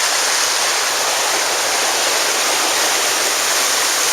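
Indian Creek stream flowing beneath a footlog bridge on a Great Smoky Mountains hiking trail, a loud, steady broadband rush of water with no breaks and no voices throughout.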